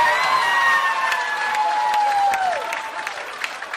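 Applause and cheering from a crowd at an artistic pool tournament, a steady wash of clapping and shouts lasting throughout, fairly loud and close, with a long whistle or whoop-like tone sliding down midway.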